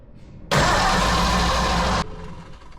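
A Cobra kit car fitted with a Holley Sniper fuel injection system cranks for about a second and a half, a loud close mechanical grinding burst that stops abruptly without catching.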